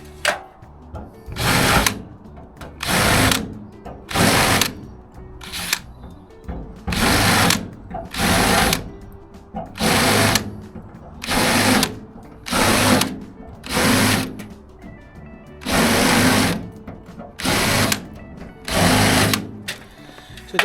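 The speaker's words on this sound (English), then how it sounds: "So you just need a nice big drill bit, and all I'm going to do is go around the outside of these." A power drill fitted with a large bit deburrs the sharp edges of holes cut in a van body, heard as a rapid series of short, loud whirring bursts in a steady start-stop rhythm.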